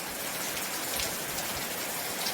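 Steady heavy rain pours down in a dense, continuous hiss with no pauses, loud and enveloping throughout.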